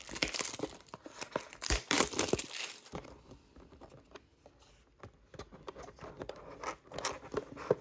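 Plastic packaging crinkles and rustles in bursts while a QRD Spark N5 budget controller is unboxed, loud handling at first, then a short lull before scattered, lighter crackles resume close by.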